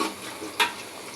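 Bay leaf and garam masala sizzle in hot oil with onion, a brief, close frying hiss with a quick stirring scrape in the middle.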